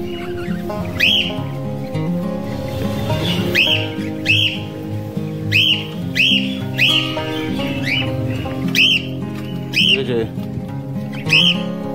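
Pet birds squawk repeatedly in sharp, loud bursts at an irregular rhythm, with clattering household sounds underneath.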